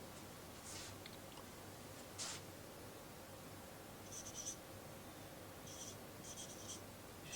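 Pen or marker strokes on a writing surface during an English grammar lesson, several short scratchy bursts spread over a steady background hiss, faint and close.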